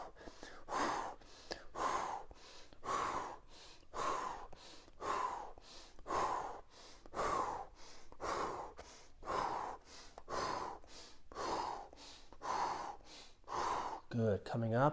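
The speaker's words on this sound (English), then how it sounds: "Exhaling as you go down." Rhythmic, close exhaled breaths from someone doing a home workout with small bouncing movements, repeating roughly every second in a steady pattern, a faint gasp at the end.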